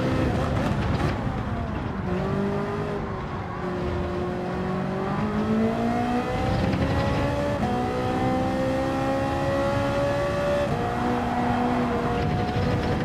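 A Ferrari race car in the Gran Turismo 7 video game drones loudly and continuously, its engine pitch rising and falling through gear changes with shifts and revs, close and unbroken for the whole stretch with no talking.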